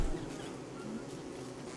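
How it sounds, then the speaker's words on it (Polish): Bees buzzing in the survival video game Don't Starve, a faint, thin, continuous drone with small wavering swells in pitch, heard alone for a couple of seconds without any talking. "O, jeszcze pszczoły nam pomogły."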